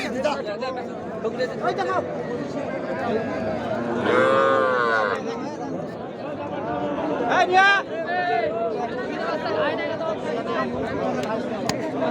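Small cattle at Ambari cattle market moo loudly and nearby, two or three calls rising over a busy backdrop of crowd chatter and people talking throughout.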